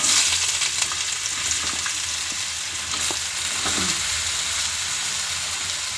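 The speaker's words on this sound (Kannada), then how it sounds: "ಆಯಿಲ್ ಕಾದ್ಮೇಲೆ ಇದಕ್ಕೆ ನಾವಿವಾಗ ಆಲೂಗಡ್ಡೆ ಹಾಕ್ಕೊಬಿಡೋಣ." Potatoes fry in hot oil in a pan, giving a loud, steady crackling sizzle throughout, with a few faint scrapes of stirring and no talking.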